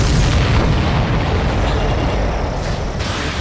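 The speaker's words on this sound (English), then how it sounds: "Did you see that explosion?" A supply ship blows up in the Ace Combat 7 jet combat game, a loud, sustained booming roar with deep rumble that stays dense and powerful throughout, with no voices over it.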